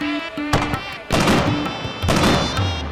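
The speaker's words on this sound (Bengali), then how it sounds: "আতশবাজি প্রতিযোগিতা।" Cartoon fireworks going off during a fireworks competition: several sharp, loud bursts roughly a second apart over bright, sustained background music.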